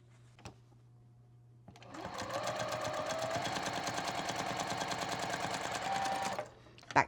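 After a brief click and a low hum, a sewing machine stitches log cabin quilt pieces in one continuous, rapid mechanical run of about four and a half seconds, then stops with a final clunk.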